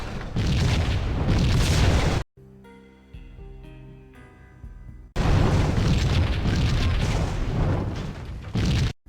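Loud, continuous roar of a restaurant fire in Max Payne, dense crackling burn filling the scene, broken by a quieter stretch of tonal game sound in the middle before the blaze returns at full strength.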